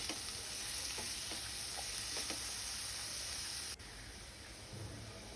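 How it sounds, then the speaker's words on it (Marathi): Chopped tomato fries in oil with onion, producing a quiet, even sizzle broken by a few light stirring taps. The hiss drops a little partway through, then goes on steadily. "आता त्याच्यामध्ये मी घालत आहे कापलेला टमॅटो टमॅटोही आपल्याला कांद्याबरोबरच तेलावर परतवून घ्यायचं आहे"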